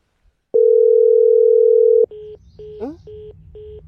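A phone line after the call is cut: a long, steady tone, followed by a run of short, evenly spaced beeps with faint background noise.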